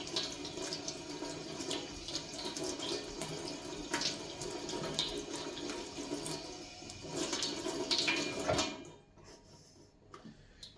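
Oysters are rinsed under running tap water in a sink, a steady close splashing rush with occasional knocks of shells, ending as the flow is shut off and a few soft handling sounds follow.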